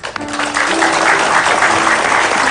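Studio audience on an Indonesian TV talk show clapping steadily, a dense, loud wash of applause that builds quickly and holds for the whole stretch, with a faint voice underneath.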